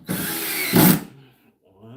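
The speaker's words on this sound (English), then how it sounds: "Now we're just locking up the screws for this here." A power driver tightens screws into an IKEA MALM dresser, with a short whirring burst and a louder final spin before it stops, then a voice speaks quietly.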